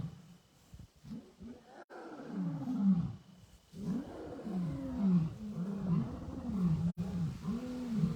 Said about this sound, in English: Oh, another lion song.